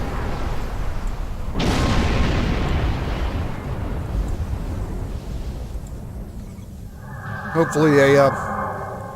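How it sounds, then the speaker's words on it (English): A torpedo blast in the space combat game Star Trek Online erupts as a heavy, rumbling boom that swells and slowly decays over several seconds, followed near the end by a brief warbling electronic game effect. "Oh god, I better get away from that before it explodes."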